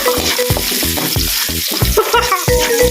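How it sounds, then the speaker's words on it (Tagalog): Onion and garlic sauteing in a caldero, a loud close sizzle broken by rhythmic scraping strokes of a spoon stirring roughly twice a second. "Just put the onion to the caldero."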